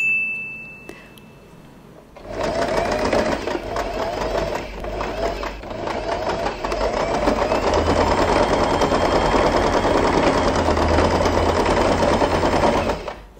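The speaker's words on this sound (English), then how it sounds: "we are going to sew the elastic band together." Sewing machine running steadily as it stitches the elastic band of a wide scrunchie, starting after a brief quiet pause and then a continuous loud whirring rattle for about eleven seconds.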